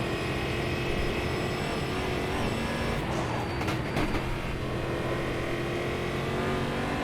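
A race car engine in the Automobilista 2 racing game drones loudly and steadily, holding a sustained high-revving note with slight swells in pitch as the throttle is worked, with no talking.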